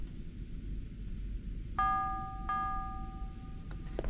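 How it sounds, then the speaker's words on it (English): A bell rings twice in the Prophecy video game demo, two clear resonant strikes about a second apart, each ringing out and slowly decaying over a low steady background rumble. "Still don't know what the bell's for."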